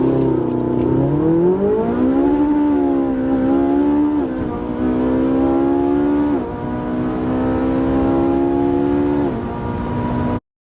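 A naturally aspirated Ferrari V8 revs hard and high, its shrill engine note climbing in a few rising sweeps with brief dips between gear changes, loud and close, then cutting off abruptly.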